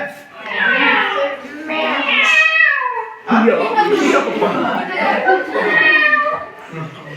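A voice imitates a cat, giving several drawn-out meows one after another, with a little chatter between them, during a classroom science lesson on sound.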